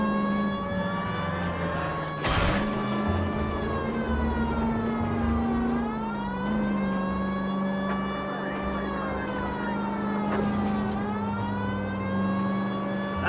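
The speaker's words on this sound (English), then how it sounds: "Turn on the siren and pull her over." Police car siren in the video game L.A. Noire, a steady loud wailing tone that rises and falls in long sweeps over a low engine drone, continuous throughout with no talk.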